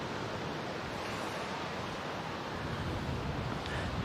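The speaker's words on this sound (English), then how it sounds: "You can hear the sea in the background." Sea surf rolling in near a coastal gun battery emplacement, a steady broadband wash of waves mixed with wind noise on the microphone, continuous and fairly loud with no talking.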